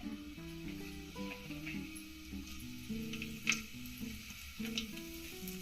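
Cumin seeds tempering in hot oil in a pan for Kannada-style majjige sambar, giving a faint, steady sizzle with light ticking pops beneath a soft background melodic tone.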